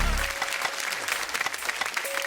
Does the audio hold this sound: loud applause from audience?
yes